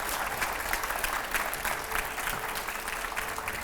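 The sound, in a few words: audience applause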